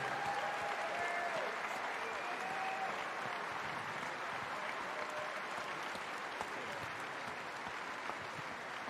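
A live strongman show audience gives sustained applause, a steady dense wash of many clapping hands that holds at an even level throughout, fairly distant and without clear talk.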